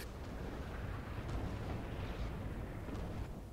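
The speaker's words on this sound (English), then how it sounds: "Artillery still hitting down the mid." Artillery fire lands in a WWII online shooter game, a continuous dense rumble of distant blasts with no distinct single impacts and no talk.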